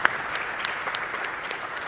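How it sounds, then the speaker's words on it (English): Audience applause at the SGDQ 2017 charity speedrun marathon, a steady burst of many hands clapping for just under two seconds, moderately loud and without talk over it. "Clap for that one."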